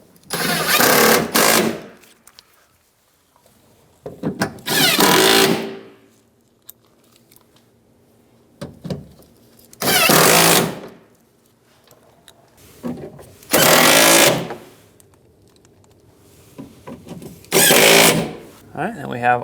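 Power tool driving bolts into a 2007-2015 Mazda CX-9 door panel, five or six short loud whirring bursts separated by quiet gaps, close by.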